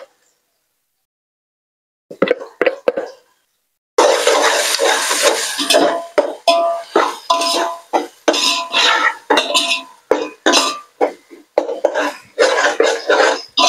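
Ginger garlic paste, tomato and onion sautéing in a pan, a near silence giving way to a few scrapes and then sizzling broken by repeated stirring scrapes and clinks of a spoon against the pan, loud and close.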